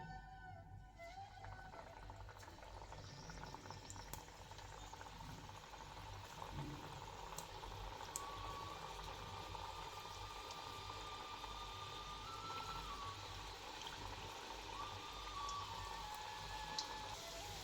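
Kapanya dough snacks fry in hot oil over a low flame, a faint and steady bubbling hiss that runs evenly throughout, with thin tonal whines in the background.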